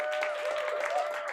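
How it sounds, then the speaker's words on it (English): Audience applause at a tech talk, a short steady wash of clapping from a seated crowd with a faint tonal hum running underneath, no voices over it. "So can we get a round of applause for Shane"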